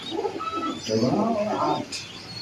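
High-flying pigeons coo close by in a loft, a few soft, throaty rolling calls with a brief lighter chirp near the end, and no talk over them.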